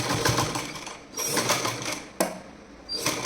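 A sewing machine runs a double lock seam along a pillow cover, whirring in steady bursts with short pauses between runs, close and clear with no talk.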